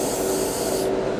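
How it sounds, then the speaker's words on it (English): A Grex Tritium TG3 airbrush spraying paint, a steady close hiss of air and atomized paint that holds evenly throughout, with no voices. "Turns it into almost a spray can."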